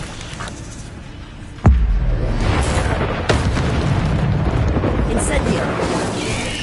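Expelliarmus spell cast in Hogwarts Legacy: a sudden heavy boom strikes, followed by a sustained rumbling roar and a second smaller impact, with speech mixed in.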